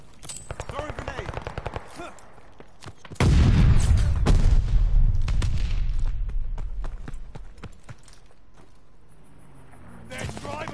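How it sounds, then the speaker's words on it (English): A grenade blast in Call of Duty: Vanguard, a loud sudden boom partway through that rumbles and decays over several seconds, preceded by rapid gunfire crackle and followed by scattered shots, with game chatter in the background. "Throwing grenade."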